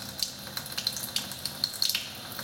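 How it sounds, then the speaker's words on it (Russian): Remaining water draining from second-floor pipes in a house after the whole-house supply is shut off, a faint trickle with small irregular gurgles and drips, quiet and close. "Немножко сливается со второго этажа остатки."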